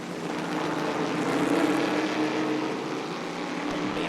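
A Mitsubishi stock car races on the Londrina circuit in a 2006 Stock Car classic event, its engine a loud, sustained roar that holds steady with a slight swell, without talk.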